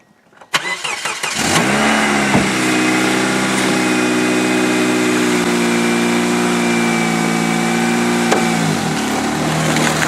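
A stock derby car engine cranks and catches, then settles into a loud steady rumbling idle with a slight rev change, close to the microphone, with no talking.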